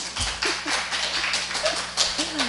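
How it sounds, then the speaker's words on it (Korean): A church congregation claps during a Sunday worship service after a Bible reading, making a quick series of distinct, close, rhythmic claps with no talking. "박수 한번 해주세요."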